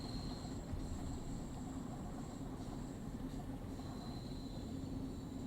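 A 1972 Mark II Stock Bakerloo Line train in Train Sim World 4 idles with a faint, steady rumble and whine, quiet and continuous with no talk.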